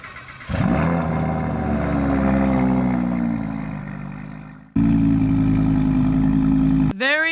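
A car engine in the Roblox game Driving Empire starts up outside: a brief crank, then a loud, steady idle, a short dip and a second, stronger burst of idle before it cuts off, with no talking.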